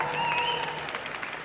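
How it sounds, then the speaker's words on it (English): An audience at a Gymshark event applauds steadily under a faint voice, the clapping staying moderately loud throughout the short stretch. "that deserves a round of applause"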